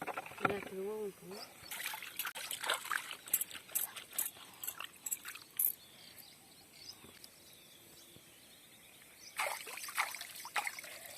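Freshly scaled fish, caught with a village net, are rinsed in water, giving intermittent splashing and sloshing in bursts, with outdoor bird and insect sounds between them.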